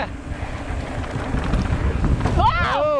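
Gusty wind buffets the microphone on a fast mountain trail near Richfield, Utah, a steady low roar throughout, with a brief bird-like chirping burst near the end.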